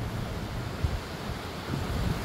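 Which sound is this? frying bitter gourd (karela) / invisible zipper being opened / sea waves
sea waves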